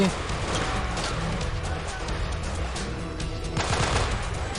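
Continuous rapid gunfire in the video game Delta Force: Black Hawk Down, dense automatic bursts rattling without pause, with a voice speaking underneath.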